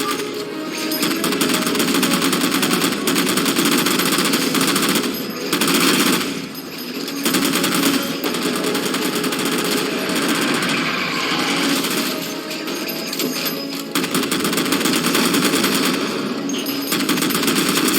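Sustained rapid automatic gunfire in the video game Halo 4 while jammers are shot down, a dense, loud rattle running almost without a break with only brief dips, and no talking.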